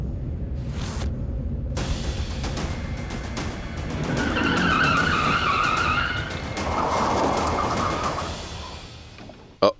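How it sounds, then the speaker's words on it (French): A car skids to a stop, tyres squealing loudly through the middle seconds after a quieter engine rumble, then one sharp knock right at the end. "Oh, la voiture s'est arrêtée."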